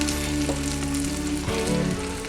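Eggplant frying in a pan for tortang talong, a loud continuous close sizzle with a faint crackle and no voices.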